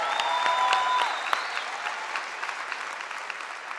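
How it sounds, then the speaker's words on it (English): Audience applause at a Young Living convention, a dense wash of clapping from a large crowd that starts fairly strong and gradually thins and fades over a few seconds. "you better clap right now. Clap, clap, clap."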